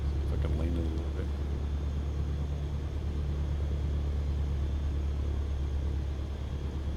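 A Cessna 152 piston engine idles at about 1,000 RPM just after start in a flight simulator, a constant, close, throbbing low drone. A brief voice is heard near the start.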